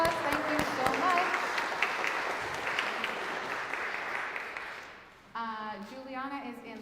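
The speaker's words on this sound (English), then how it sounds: "Big round of applause." Applause for two pre-K classroom volunteers at a church service, a steady round of clapping from a gathered crowd for about five seconds before it stops and someone speaks.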